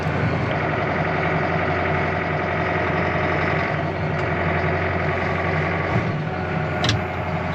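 A farm tractor engine idles steadily and loudly nearby during hay feeding on a snowy day, a constant low rumble that holds without change throughout.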